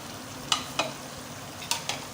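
Fried okra being stirred into a simmering mutton curry in a pot, with four short scraping clinks of the spoon spaced across a quiet, faint background sizzle.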